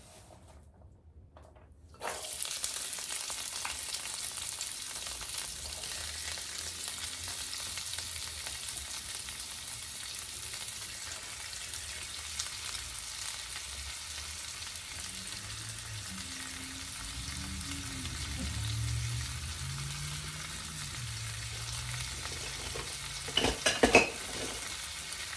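Vegetables and garlic fry and get stirred in a pan for a bison cottage pie, a steady close sizzle with scraping stirs and a few sharp utensil clanks near the end, no one talking.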